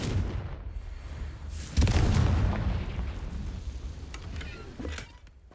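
A Confringo spell explodes in Hogwarts Legacy, a sudden loud boom partway through followed by a rolling, decaying rumble and smaller crackling bursts.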